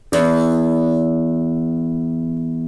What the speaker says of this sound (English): I have a guitar, I make a sound.